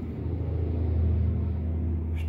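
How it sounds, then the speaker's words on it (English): Traffic passes outside a house in mid-morning, heard indoors as a steady low rumble of road vehicles that swells slightly and continues without any talk. "There's traffic outside."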